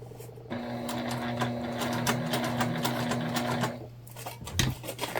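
A sewing machine stitches a sling bag in a steady mechanical whir with a rapid needle rhythm, running continuously for several seconds before pausing briefly and starting again, close and clear.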